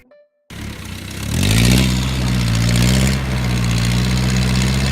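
After a brief moment of quiet, the engine of a rusty homemade vehicle starts up loud and close, revs up, then settles into a rough, steady, throbbing idle for its test ride.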